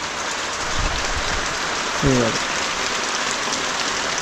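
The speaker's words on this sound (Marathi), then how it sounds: "मगाचा पाऊस थांबलेला परत आला आहे" Early-monsoon rain in rural Konkan falls as a steady, even hiss of drops throughout, with a brief low thump partway through.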